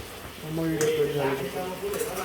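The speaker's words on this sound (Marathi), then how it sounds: "आता मस्त असं परतून घ्यायचं" Mutton being sautéed and stirred in a pan, with soft scraping and metallic clinks of a spoon against the pan over a faint sizzle, while a voice talks over it.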